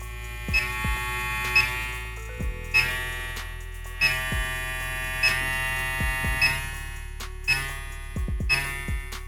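VGR V001 hair clipper motor spinning near 7,100 RPM, a close electric buzz and hum with a regular repeating pulse and faint ticks, no talking.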